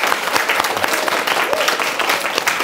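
Audience applause at a girls' high school student council assembly, dense clapping from a crowd filling the short stretch evenly without pause.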